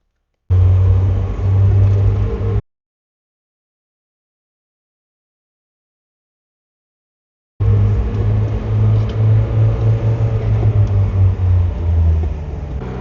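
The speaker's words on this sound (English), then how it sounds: "then we'll go for a drive. Try some curvy roads." Mazda Miata after a sway bar install, a steady low engine rumble and road drone from inside the car in two stretches separated by several seconds of silence, with no talking.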